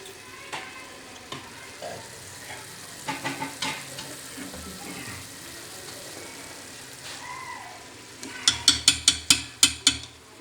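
Mutton boti frying in ghee in a karahi, a low steady sizzle with scattered scraping stirs, then a quick run of sharp, evenly spaced metallic taps toward the end, no talking.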